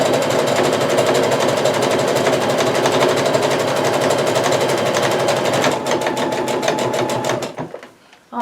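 A sewing machine stitches fabric ties for a face mask, running loud and steady in a close, continuous rapid whir that slows and stops near the end.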